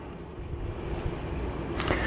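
Water rushes steadily through an RV waste pipe during a tank flush, a continuous turbulent gurgling roar close to the microphone with no talking.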